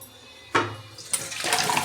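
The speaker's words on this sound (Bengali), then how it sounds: "আমি জলটা ঝেড়ে নিচ্ছি ফুটো বাটিতে" Boiled taro water poured out through a colander: a sudden close splash followed by a second gush of running, draining water, loud and continuous.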